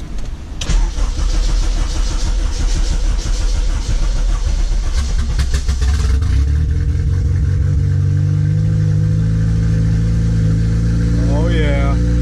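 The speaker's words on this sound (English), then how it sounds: "Let me see if the car starts real quick." A turbocharged Acura RSX cranks and fires up loudly nearby, then settles into a steady, rumbling idle, with a brief chirp near the end.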